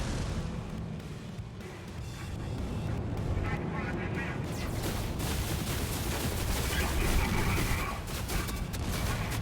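Auto-fire weapon shots from a starship in No Man's Sky, a steady rapid stream of repeated blasts over engine rumble while someone talks throughout.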